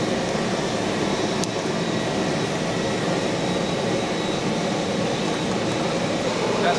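A hair dryer serving as the blower for a small firebrick forge on a metal workbench, a loud, constant rushing roar of forced air and burning gas that stays level throughout with no talking.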